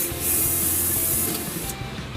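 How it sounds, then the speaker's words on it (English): An airbrush spraying paint onto a scale model gives a steady, close hiss throughout, with slight rises and falls in intensity and no talking. "when you paint with your airbrush"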